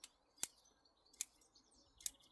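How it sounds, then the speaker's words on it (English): Scissors snipping roots of a musk maple during repotting, three sharp, quiet clicks spaced evenly about three-quarters of a second apart, close up in an otherwise hushed setting. "Might need sharpening these scissors a bit that I use for"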